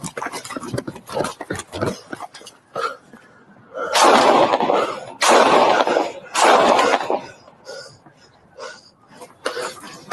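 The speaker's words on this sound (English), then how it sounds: "Shots fired." Gunshots fired during a police arrest outside a store, several sharp, loud reports in quick succession mixed with bursts of commotion and raised voices, fairly close and harsh.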